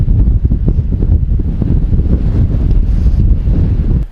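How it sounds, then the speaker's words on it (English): Strong wind buffets the microphone in a continuous low roar, loud and steady throughout with gusty rumbling. "But it's very windy, so we might have to record this in post."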